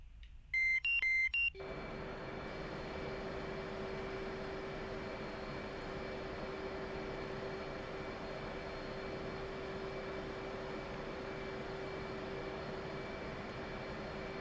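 Inside an F-18 Hornet jet in the DCS flight simulator, a short series of electronic cockpit beeps gives way to a steady, droning jet engine hum that holds at an even level throughout, with no speech.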